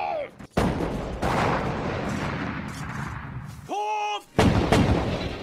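Cannon fire in a kung fu film battle scene, a series of heavy, loud booming blasts and rumbling debris, with a short shouted voice between the blasts.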